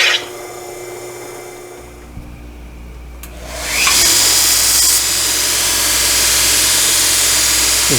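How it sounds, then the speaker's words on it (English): Power grinder dressing down brass pushed out around a drilled, countersunk screw hole in the base of a homemade Wimshurst machine; starts after a quiet stretch, then a loud steady whine runs continuously to the end. "Just grinding off where it kind of pushed that brass out."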